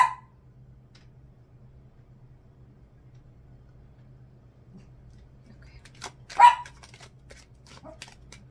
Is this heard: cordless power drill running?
no